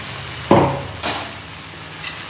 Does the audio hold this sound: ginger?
yes